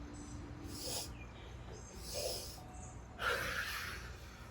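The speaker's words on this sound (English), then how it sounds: "Inhale, inhale, and big exhale." Three deep, airy yoga breaths in a calm exercise class, each a soft inhale swelling into a bigger audible exhale, the last the strongest, with nothing else behind them.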